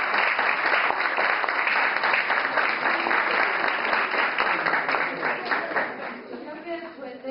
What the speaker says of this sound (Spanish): un fuerte aplauso para usted y bienvenido